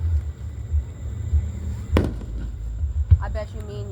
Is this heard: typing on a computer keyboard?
no